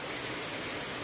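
Heavy rain falling, a dense steady hiss of water with no pauses.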